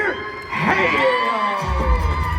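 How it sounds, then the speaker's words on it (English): Crowd cheering and shouting erupts for a U16 Level 2 cheerleading team at a cheer competition, a loud burst of whoops and yells with voices mixed in. "Let's make some noise for Lightning Cheer."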